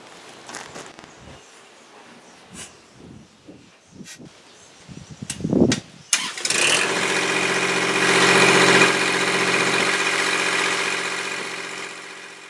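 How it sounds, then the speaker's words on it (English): Kubota L2501 compact tractor: a few clicks and knocks, then the starter cranks and the diesel engine catches and settles into a steady, loud idle with a constant droning hum. "Let's see if she starts and purrs like she should."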